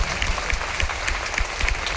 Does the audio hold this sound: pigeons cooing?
no